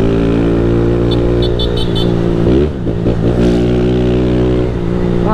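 A Honda Fan 160 motorcycle engine with a strange noise runs loud and close, holding a steady harmonic drone that dips and wavers briefly in the middle before settling back.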